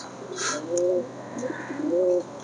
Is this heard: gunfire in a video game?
no